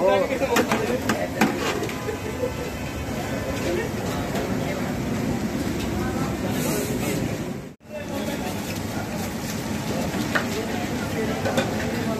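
Samosas frying in a large batch of oil at a street food stall in Islamabad, Pakistan, a steady loud sizzle and bubbling with stirring, under voices talking.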